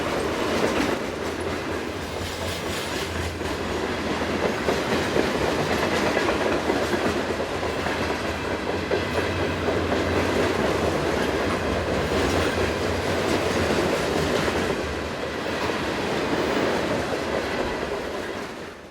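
Northbound ballast train in eastern Virginia hauled by three GE C40-9W locomotives uprated to C44-9W, passing close with steady rumble, rhythmic clickety-clack of wagon wheels and occasional squeal, loud and continuous without talk.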